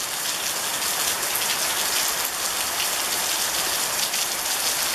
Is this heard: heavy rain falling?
yes